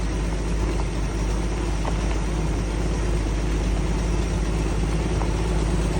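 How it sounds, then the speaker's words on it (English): An old Jeep idles as it crawls slowly up the rough Mill Creek trail near Sheridan, Montana, a steady low engine drone that holds close and loud throughout with no talking. "This is the best part, just idling along."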